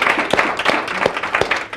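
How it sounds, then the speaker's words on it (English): A handful of scattered claps from the audience at a child welfare research panel, spaced in a loose, slowing rhythm as the applause tapers off over a quiet room. "let's give them a round of applause"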